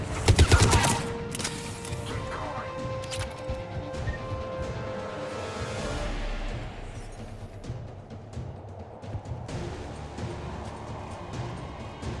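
Anti-aircraft guns fire in Mass Effect 3, a loud burst of shots at the start followed by continuous rattling gunfire and rumbling battle noise throughout.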